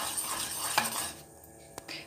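A spoon scrapes and swirls through a sauce thickening with potato starch in a pot over medium heat. Steady close stirring fills the pot, with a couple of sharper knocks against its side.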